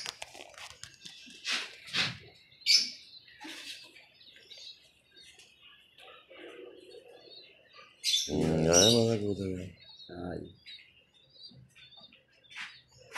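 Pigeons offered for sale give a few short chirps and calls close by in a quiet setting, while someone talks briefly between them.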